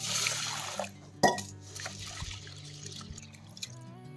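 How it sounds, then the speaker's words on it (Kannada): Urad dal rinsed in water for vada batter, giving a soft trickling and dripping with one sharp splash near the start, close and quiet, no voices. "ಈಗ ಉದ್ದಿನ ಬೇಳೆ ತೊಳ್ಕೊಂಡು"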